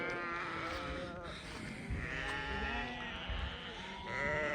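Several sheep of the Hissar breed bleat in a spring pasture, overlapping wavering calls rising one after another above a busy farmyard background, fairly close and loud throughout.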